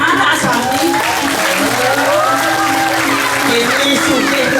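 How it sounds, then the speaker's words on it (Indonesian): Audience claps at a Balinese Drama Gong comedy performance, the applause loud and continuous beneath talking and a chattering crowd. "Tepuk tangan asami."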